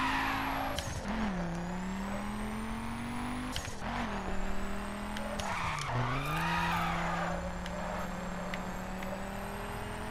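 A Perf Spec Mini Cooper sliding in the racing game The Crew, its engine droning steadily while the tires squeal in long skids that bend in pitch, loud and continuous with no talking.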